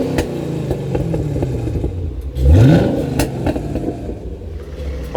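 A car engine idles during an engine decarbonization treatment, then revs up once in a rising surge as the accelerator pedal is pressed before settling back to a steady idle, with clattering and rumbling close by.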